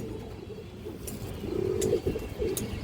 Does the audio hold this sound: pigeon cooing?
yes